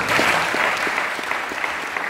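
A church congregation applauding together, a steady dense wash of clapping from many hands that fills the room evenly and stays loud throughout, with no speech over it.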